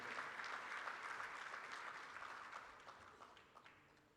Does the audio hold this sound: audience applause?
yes